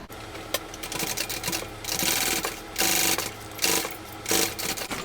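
A sewing machine stitches the seam of a small fabric bucket bag, steady mechanical whirring in several bursts with short pauses between runs, close and fairly loud.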